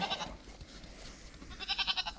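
A small goat bleats faintly in two short wavering cries, one at the start and one near the end, with low background noise between.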